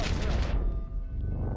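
Secondary guns on the HMS Vanguard battleship firing in World of Warships: Legends, a dense burst of rapid booming shots at first that cuts off and leaves a low rumbling tail.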